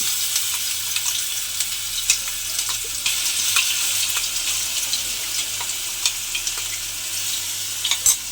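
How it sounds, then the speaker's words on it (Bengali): Ginger, garlic and onion paste sizzles in hot oil, a loud, dense, continuous hiss with scattered crackles and a few stirring knocks, heard up close with no talking. "আদা রসুন পেঁয়াজ বাটাটা আমি তেলের মধ্যে দিয়ে দিলাম।"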